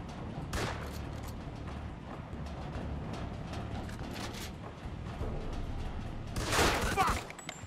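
Scattered gunshots crack through a Mafia 2 firefight, sparse pops over a steady low rumble, then a louder burst of fire near the end, mid-distance and fairly loud.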